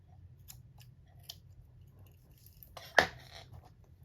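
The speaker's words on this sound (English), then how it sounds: "then we will grab our scissors" Scissors snipping crochet yarn while working a granny square, one crisp close cut standing out after a few faint handling clicks over quiet room hum.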